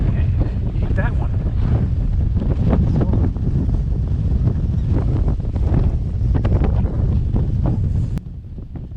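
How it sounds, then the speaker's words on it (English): Heavy wind buffets the microphone on a fishing boat out on open water, a loud, continuous roar with water sounds underneath, steady throughout before easing slightly at the very end. "I know it's hard to hear the dialogue over the wind"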